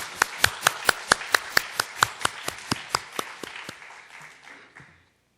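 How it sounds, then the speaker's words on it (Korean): An audience claps together for the mother of a young musician, about seventeen sharp, evenly spaced claps in steady rhythm that gradually soften and then stop. "엄마를 위해서도 박수 한번"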